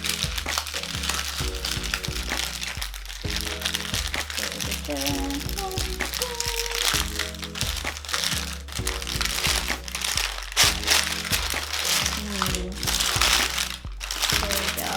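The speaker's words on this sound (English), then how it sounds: "you could either use scissors to cut it open or just unwrap it like so" Foil or parchment wrapping crinkles and crackles steadily as a pouch of baked salmon and vegetables is unwrapped by hand, over low background music.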